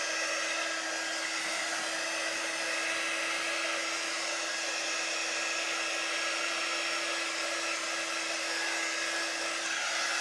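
A dryer blowing steadily to dry a freshly made handmade sign, one continuous close whooshing drone with a faint whine, with no talk.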